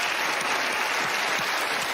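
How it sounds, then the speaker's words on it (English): A studio audience bursts into steady applause for magician Johnny Magic on a televised magic show stage, dense clapping holding evenly throughout. "Give her a round of applause"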